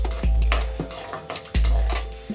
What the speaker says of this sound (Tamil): பூண்டு வந்து நல்லா ஒரு 1 மினிட்க்கு நல்லா ஃப்ரை ஆகட்டும்.